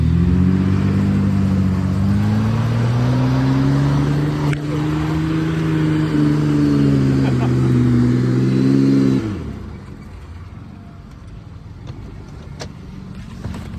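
A Ford Crown Victoria accelerates hard. Its engine note climbs and holds loud for about nine seconds, then drops sharply as it eases off, leaving a quieter road hum.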